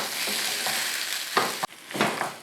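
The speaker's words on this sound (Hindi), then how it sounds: "तमाम स्पाइसेस और सॉस को हमने आलू के साथ मिक्स कर लेना है।" Potatoes are stirred together with spices, soy sauce and other sauces in a pan, giving a continuous soft scraping and sizzling sound with a few louder stirring strokes close by.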